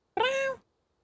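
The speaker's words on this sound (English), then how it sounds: "She meowed at me from afar." A single cat's meow, distant-sounding and moderately faint, a short drawn-out cry lasting under half a second and then silence.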